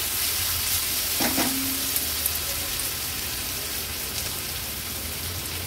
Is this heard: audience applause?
no